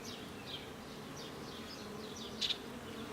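A crowd of honeybees drones around an open hive during an inspection, a continuous close buzz with individual bees swooping past and one louder fly-by near the end.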